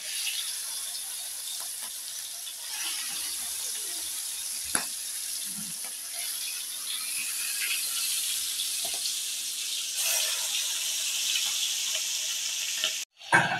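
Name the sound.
hilsa fish frying in pan with egg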